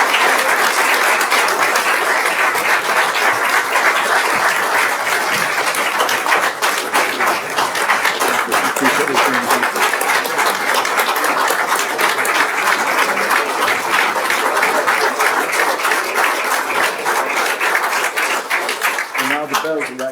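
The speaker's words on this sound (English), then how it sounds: "So let's give them a round of applause." Audience at an Odessa city council meeting applauds steadily for about twenty seconds, a dense, loud wash of many hands clapping with some voices mixed in.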